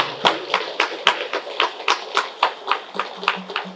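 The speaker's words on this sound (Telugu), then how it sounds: "ఈ అద్భుతమైన ధ్యానానికి ఒకసారి గట్టిగా చప్పట్లు కొడదాం." A meditation audience claps together at a Sri Krishna Pyramid anniversary gathering, about a dozen evenly paced, crisp claps in steady rhythm.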